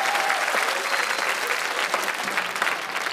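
Steady, dense audience applause at a televised singing show, loud and continuous throughout, with a faint voice partly heard under the clapping.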